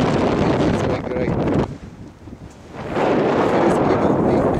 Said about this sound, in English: Nice little bit windy day.